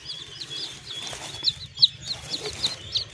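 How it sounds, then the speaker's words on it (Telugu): A hen with her small chicks gives soft low clucks while high thin peeping from the chicks repeats in quick bursts close by, continuous over the short stretch. "ఇదిగోండి కోడి పిల్లలు"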